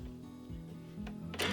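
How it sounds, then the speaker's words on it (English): A sewing machine runs a quarter-inch seam around a cloth surgical face mask with ties, giving a steady low mechanical hum with rhythmic stitching pulses, rising to a brighter, louder whir at the end, with no talking. "we're going to go ahead and sew a 1/4 inch seam all the way around the mask"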